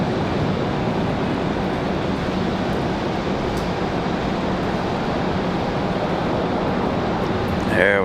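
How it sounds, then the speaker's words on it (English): Steady broadband rushing spray, like high-pressure water hosing an aircraft at Raleigh Durham airport during snow, continuous and fairly loud with a brief tonal rise at the end. "There we go, that water spray."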